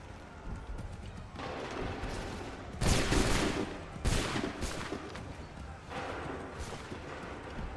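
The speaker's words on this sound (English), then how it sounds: "Hold fire! Make ready! Open fire!" Musket volleys in the Assassin's Creed 3 Defense of Concord battle: loud broadband bursts of gunfire over a continuous battle din, with two strong volleys close together and a lighter one later, amid ambient game noise.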